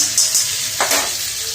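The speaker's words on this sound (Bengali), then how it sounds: "কড়াইতে আমি বাটার দিয়ে দেবো অল্প করে সাদা তেল দিয়েছি আর একটু বাটার দিয়ে দিলাম" Butter and white oil sizzle loudly in a kadai for a Bengali spinach chicken, a close, continuous frying hiss with a brief stir or scrape near the middle and no voices.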